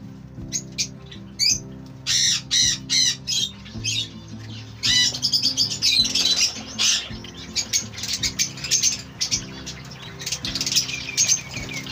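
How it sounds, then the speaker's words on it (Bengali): Many birds squawking and chirping inside an aviary of separate cages, a dense, loud chorus of harsh calls and bright tweets in continuous bursts, with some flapping. "প্রচুর প্রচুর পাখি আছে এখানে, প্রচুর পাখি থাকে"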